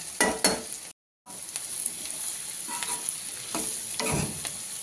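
Bitter gourd and onion curry cooking in a pan on a gas stove, with a soft continuous sizzle broken by scraping stirs and a brief silent gap near the start, heard alone with no voices.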